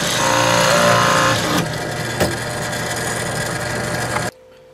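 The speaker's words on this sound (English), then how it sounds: "I got that 1/2 inch hole drilled out" A power drill boring a 1/2 inch hole through a clamped piece of wood, a loud steady whine that runs for over four seconds, dips slightly partway through, then cuts off abruptly.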